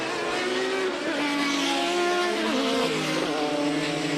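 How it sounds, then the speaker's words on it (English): Group C/GTP race cars, Jaguars and Porsche 962s, roaring past at Brands Hatch, a continuous loud engine howl with rising and falling pitch as cars shift and pass. "behind them the two Porsche 962s are ganging up on Mercer"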